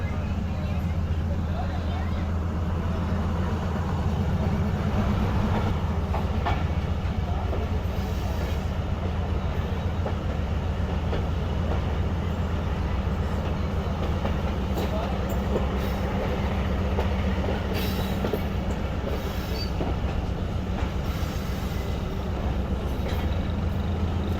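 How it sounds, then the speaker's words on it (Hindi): The Shalimar Express, drawn by a locomotive on the main line between Rohri and Ra, rolls along steadily with a constant loud rumble and faint rhythmic clickety-clack of wheels on rail joints, under intermittent speech. "फाइनली ट्रेन आ गई है मेन लाइन पर"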